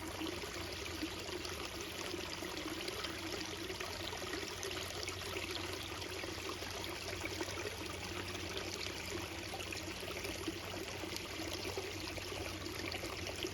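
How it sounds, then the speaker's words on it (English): Water drips and trickles steadily off rock in the Iowa Driftless Region, a faint, continuous wet patter with no voices. "Even how the water is just dripping off the rock there."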